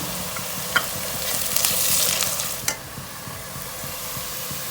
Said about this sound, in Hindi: तो हमें अदरक डालती हूँ, थोड़ा भूनना।